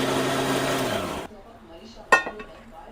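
A mixer grinder whirs loudly, grinding coriander, garlic, ginger and green chillies, then cuts off abruptly after about a second, followed by a sharp clatter and a few faint knocks.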